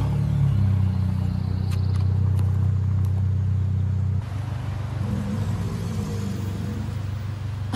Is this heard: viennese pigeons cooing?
no